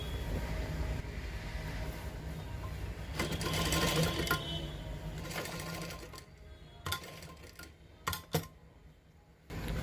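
Sewing machine stitching a coat collar, a steady mechanical running whir for about six seconds, then stopping into a few clicks and handling knocks before starting again, close and moderately loud.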